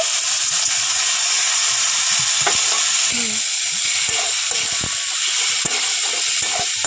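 Ground cumin, coriander, turmeric and chilli powder sizzle hard in a pan with a splash of water for a jackfruit dish, a steady loud hiss with a few soft clinks and stirs.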